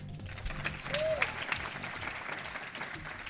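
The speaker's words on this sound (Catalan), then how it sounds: "Que passin bona tarda i un fort aplaudiment." A live audience at a university event in the Raval claps warmly, a fairly loud and uneven patter with some crowd murmur and a brief whistle-like tone mixed in.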